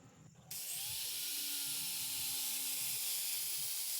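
A steady high-pitched whir of a power sander with P240 sandpaper starts abruptly and runs continuously, with a grinding hiss as it works against a hard glass edge.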